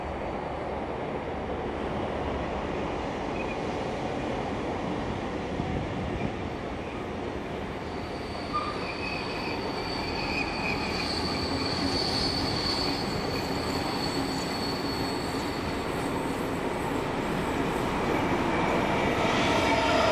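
Heritage train hauled by locomotive 4916 heading back to Sydney in New South Wales, a steady loud rumble of rolling wagons with wheels squealing on the rails, building slightly toward the end.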